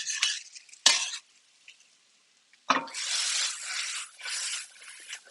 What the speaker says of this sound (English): I'm going to spoon to stir that.